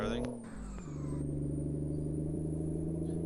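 Kenworth K100 truck pulling away, a deep steady diesel drone with a brief hiss near the start, loud and close, with some voices briefly over it.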